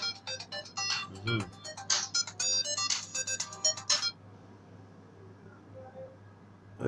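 A mobile phone ringtone plays loud, bright repeating melodic bursts for about four seconds, then stops, leaving quiet room noise.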